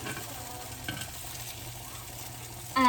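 Polish pork cutlets fry in avocado oil in a pan, producing a steady, close, even sizzle that holds without a break, with a slight rise at the very end and no talking.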